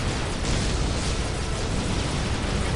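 Long-range Hellfire artillery knockdown blast from the Dawn of War Soulstorm strategy game, a dense, loud, continuous roaring rumble of explosions that fills the whole moment with no pause.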